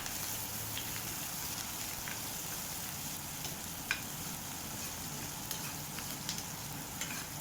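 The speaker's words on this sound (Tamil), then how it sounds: "வெங்காயம் ஓரளவுக்கு நல்லா வதங்கட்டுங்க" Shallots sauté in oil with mustard seeds and curry leaves, giving a steady, quiet sizzle with a few faint pops and light ticks all the way through.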